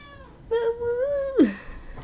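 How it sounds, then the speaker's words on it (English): A house cat gives a single drawn-out meow that rises and then bends sharply downward at the end, close and clear against a quiet room. "Oh, my cat is here."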